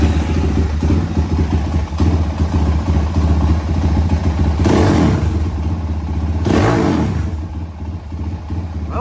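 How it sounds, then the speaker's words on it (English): A dirt bike engine idles at about 2,000 RPM close by, a steady throbbing putter with a couple of brief throttle blips and some mechanical clatter. "We're idling at 2 grand."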